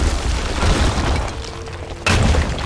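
Enemy tower being destroyed in SMITE, a loud, rumbling explosion that fades and then flares again in a second sharp boom, with no talking.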